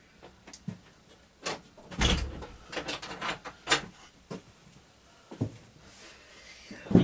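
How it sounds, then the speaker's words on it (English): A vehicle door in a garage during a steering box installation is shut, with several knocks, rattles and a firm thud among handling noises, close by and without talk. "Let me close this door."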